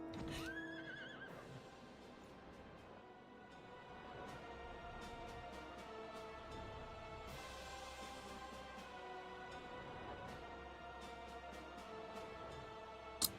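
Horse mount in Final Fantasy XIV neighing and whinnying against a busy game soundscape with music, clip-clop hooves and sharp effects, moderately loud and mostly clear of talk.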